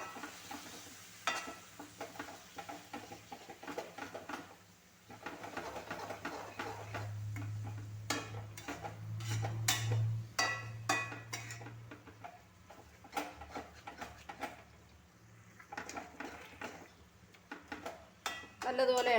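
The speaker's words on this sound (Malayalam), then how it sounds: "ഇനി ഇത് നല്ലതുപോലെ ഒന്ന് ഇളക്കാം" A spoon stirs chicken curry with its ground spice paste in a pot, giving repeated scraping and clinking strokes with a soft sizzle beneath, close and moderate in level, with brief pauses between bursts.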